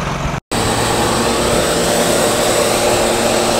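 A hammer mill grinds shelled corn with a loud, dense, steady roar and whine, close and unbroken apart from a very brief cut near the start.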